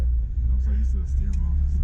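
Low engine rumble of a small JDM car, a Mitsubishi Pajero Jr or Suzuki Every, heard steadily from inside while driving, with a person talking over it.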